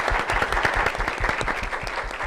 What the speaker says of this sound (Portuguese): Gente, palmas para o pai do Thales Maia.